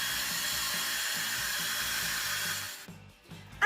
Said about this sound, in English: next step is to blow dry my hair